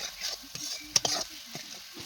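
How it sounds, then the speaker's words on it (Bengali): Onion and green chili frying in oil for home-style chowmein, a faint sizzle under close, uneven spatula scrapes and clinks, with a few quiet vocal sounds in the background. "তেলের মধ্যে পেঁয়াজটা কাঁচা লঙ্কাটা দিয়ে দিলাম।"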